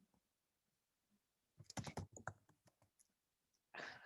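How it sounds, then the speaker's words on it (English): Typing on a computer keyboard in a quiet room: a quick burst of close, crisp key clicks after a near-silent pause, then a louder clatter of keys at the end. "You just start typing."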